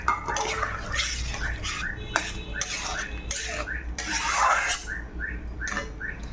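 Tomato paste and water go into a pan of cooking pumpkin and potatoes, with repeated clinks and scrapes of a utensil against the metal pan and some wet stirring, close and fairly loud.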